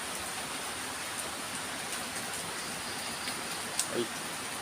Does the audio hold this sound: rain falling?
yes